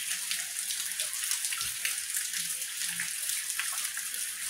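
Water runoff trickling and dripping steadily inside a small ice cave, a continuous hiss of splashing droplets with occasional louder drips, close and fairly loud, no voices.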